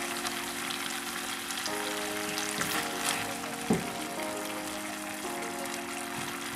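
Pizza ball filling of cheese, salt and Provençal herbs sizzles steadily in a frying pan, with a few soft scraping stirs breaking the close, constant frying hiss.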